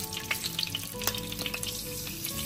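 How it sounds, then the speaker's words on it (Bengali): Slit green chillies crackle in the hot oil left after frying pabda fish. The sizzle is dense and steady with rapid popping spatters, close up, and there are no voices. "এবার ওই তেলের মধ্যে চেরা কাঁচা লঙ্কা"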